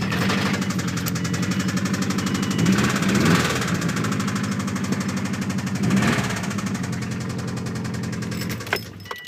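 A 2002 Subaru WRX with a turbocharged 2.0-litre engine idles steadily close by, a low, even burble with slight lumpy pulsing and swells, running alone with no talk.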